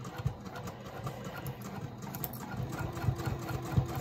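A sewing machine stitches slowly over a clipped, bulky fabric purse flap near a magnetic snap, giving a faint, steady low whirr with soft repeated thumps.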